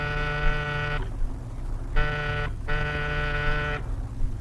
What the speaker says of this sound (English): Buzz the buzzer.